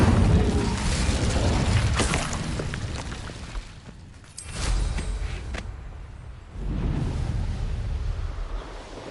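Incendio fire spell cast in Hogwarts Legacy, heavy roaring whooshes and booming bursts of flame that swell, fade, then flare again in a couple of loud rushing surges.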